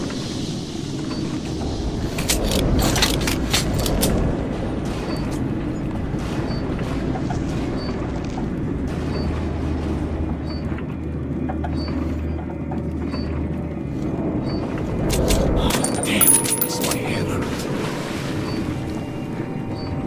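A handcar in Metro 2033 Redux rolling along rails, its lever mechanism clanking and creaking in irregular bursts over a low steady rumble, with occasional sharper metallic knocks and a breathy wind-like hiss.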